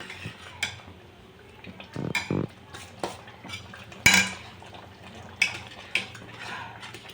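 Spoon scraping and clinking in a pan as crushed kasuri methi is stirred into paneer butter masala, several distinct metallic knocks and scrapes over a faint background, close and fairly quiet.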